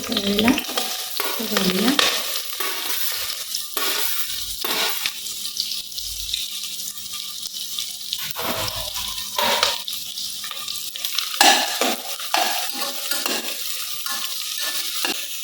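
Onion fries in hot oil for chicken biryani and is stirred, making a steady loud sizzle with scraping spatula strokes and occasional watery splashes, close and continuous throughout.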